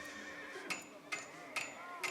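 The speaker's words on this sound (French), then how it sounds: "Prends un cheval pour qu'on puisse y aller." A horse in the video game Mafia: The Old Country whinnies in short, bright bursts repeated about every half second over steady background game sound.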